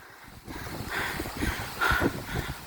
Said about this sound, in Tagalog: Mukhang malakas ang hangin.